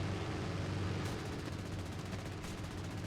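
The twin machine guns of an SU-2 aircraft in War Thunder fire in rapid continuous bursts over the loud engine drone, two short sharper volleys standing out.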